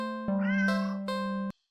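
A cat in a video game lets out a single clear, drawn-out meow, close and alone, rising and then holding before ending abruptly.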